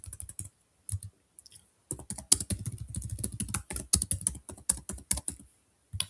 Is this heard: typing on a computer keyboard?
yes